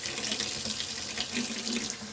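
Water gushing from a tap inside an ice-fishing house, a steady close hiss and splash running without pause and without voices.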